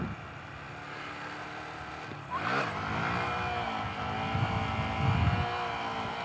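A Honda Grom motorcycle doing a wheelie in a parking lot, its small engine droning steadily before revving up sharply partway through and holding a higher, louder pitch, heard fairly close with no talking.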